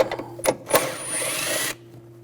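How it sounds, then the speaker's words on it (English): A 10mm socket on a ratchet works bolts loose on a 2000-2006 BMW X5 3.0L inline-six: two sharp knocks, then a steady, close ratcheting whir lasting under a second before it stops. "We're going to take these two bolts out, use a 10mm socket."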